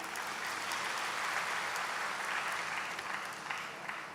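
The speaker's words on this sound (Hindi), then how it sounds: "तो जैसे खुशी से ताली बजाई" A large audience at a spiritual welcome session claps joyfully. The applause is dense and steady, and it carries evenly for several seconds before thinning slightly at the end.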